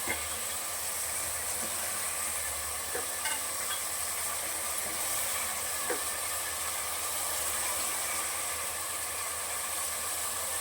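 Carrots, beans and potatoes frying in a pot for vegetable biryani, with a steady hiss and sizzle and occasional faint scrapes of a spoon stirring through the mix, no talking.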